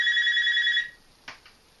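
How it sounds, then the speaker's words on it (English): A telephone rings in one loud, steady electronic burst that cuts off abruptly, followed by a couple of faint clicks in a quiet room. "That phone never rings."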